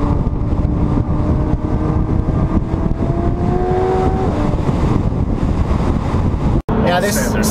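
A McLaren 720S drives along with a loud, steady engine drone, tire roar and wind noise filling the cabin, one tonal note climbing briefly then settling, all continuous under occasional talk.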